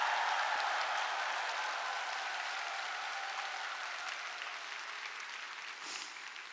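A large seminar audience claps and cheers in a hall, a loud, dense wash of applause that starts at full strength and slowly tapers across several seconds.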